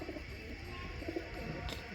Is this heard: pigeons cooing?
yes